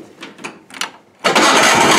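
An Onan engine on a garden tractor cranks over with a few uneven starter pulses, then fires and catches into a loud, steady running roar close by.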